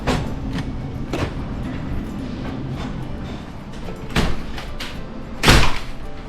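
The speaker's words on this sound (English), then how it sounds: "That door is hard to close." Heavy door aboard a cruise ship on its upper decks, several knocks and thuds as it is pushed and finally banged shut with a loud slam near the end, close by against a low background hum.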